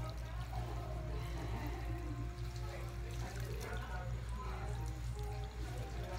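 Cold water running and splashing steadily while rinsing toned blonde locs, a continuous close pour with a low hum underneath and faint voices in the background.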